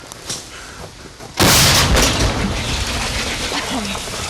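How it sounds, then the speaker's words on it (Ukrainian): A single heavy artillery gun blast near Bakhmut bursts out suddenly and very loud, followed by a long rumbling decay; faint voices come before it. "Відправляємо. Постріл! Гармата!"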